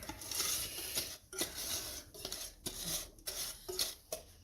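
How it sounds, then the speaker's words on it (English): Thick marshmallow mudslide mixture is dumped and scraped from a bowl onto a baking tray, heard as a series of close clanks, taps and scrapes of utensil on metal in uneven bursts. "now we're just going to dump it out on our baking tray here"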